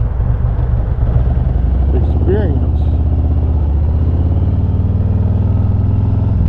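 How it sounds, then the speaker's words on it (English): A Harley motorcycle idles with a low, steady exhaust rumble, close and loud throughout, with a brief higher tonal sweep in the middle and someone talking faintly over it. "You dig the exhaust note."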